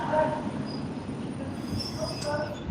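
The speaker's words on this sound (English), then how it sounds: "Here's a train." A Moscow metro train passes at a distance, a soft rumble with faint wheel squeal rising and fading across a few seconds, quiet and steady.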